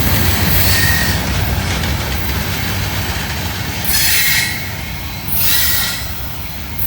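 A freight train rolls past on a CSX track, a steady loud roar of wheels and cars with rhythmic clacking and bursts of high wheel squeal, no talk.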